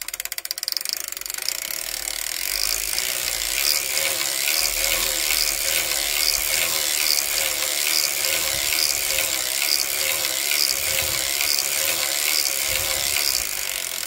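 A hand-cranked sock knitting machine runs continuously, its needles and cams giving a fast, steady ratcheting clatter with regular mechanical clicks, close and loud, no talking over it.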